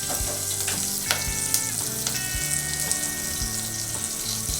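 A frying mix with turmeric and asafoetida is stirred in a hot pan, giving a close, steady sizzle with scraping stir strokes and brief metallic clinks, and nobody speaks.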